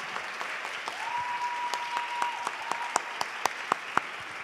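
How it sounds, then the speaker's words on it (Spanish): An audience at a school awards ceremony claps steadily and dense, with a thin tone held underneath and a few sharper individual claps standing out toward the end. "Otro aplauso grande"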